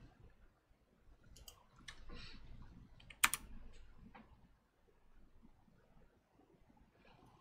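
Sparse typing on a computer keyboard during handwired keyboard programming, scattered soft key taps and one sharper click, quiet and without voices.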